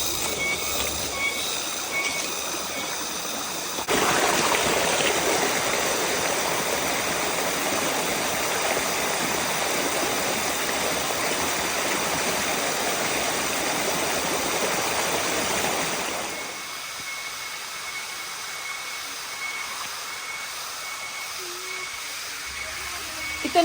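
A stream with mini waterfalls on a farm lot rushes in a steady broadband hiss, loud and close for most of the stretch, then dropping to a softer, more distant flow.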